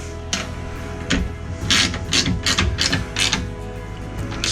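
Bolts being tightened with a 7/16 wrench on a Harley Davidson backrest, producing close, repeated mechanical clicks and ratcheting rasps in quick irregular bursts against a steady low background hum.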